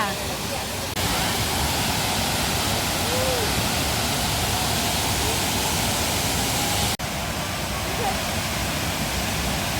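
A steady, loud rush of falling water, a continuous broadband roar from Tat Ton waterfall in Ubon Ratchathani, Thailand, with no clear voices standing out.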